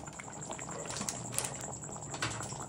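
Chana masala boils steadily in a pot, a continuous bubbling simmer with soft pops and gurgles throughout, moderately close and alone without voices.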